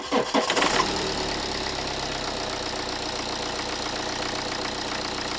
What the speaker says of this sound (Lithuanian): tai pabandykime užkurti šį varikliuką